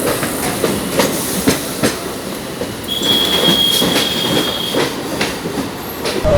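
Chennai suburban train running from Beach station toward Tambaram, with loud continuous rumble of railcars, rhythmic clickety-clack of wheels over rail joints and a sustained high wheel squeal partway through, heard close from on board.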